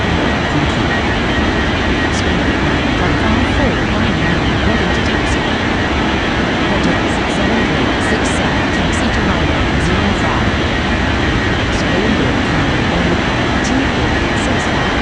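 The engines of a China Southern A380 airliner in a flight simulator game roar loudly and steadily during takeoff. Faint radio voices can be heard underneath.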